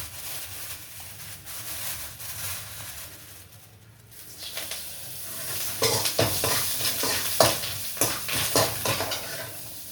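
Curry leaves dropped into hot oil for lemon rice: a quieter stretch, then a burst of loud, close crackling and spitting that keeps popping to the end.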